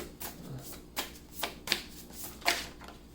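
Tarot cards being shuffled by hand: a quick run of crisp riffling bursts, about five distinct flutters in close succession, near and alone.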